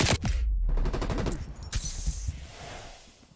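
Gunfire in a console shooter game, a dense loud volley of shots at the start that fades into a quieter tail and ambient noise.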